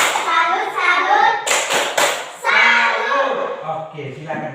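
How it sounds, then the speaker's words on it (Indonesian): A class claps together for a group of students, with bursts of fast, overlapping claps between spoken exchanges and children's voices in a reverberant room. "Beri tepuk tangan untuk kelompok 1."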